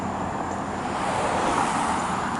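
A car drives by on a residential street outside an old house, a moderate steady whoosh of tires and engine amid general traffic noise, fairly even across the moment with no voices.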